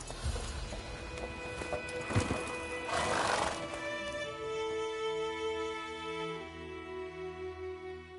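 Roach, the horse in The Witcher 3, gives a loud, close whinny over hoofbeats and movement, then the neigh trails into a long, wavering tonal call that fades out.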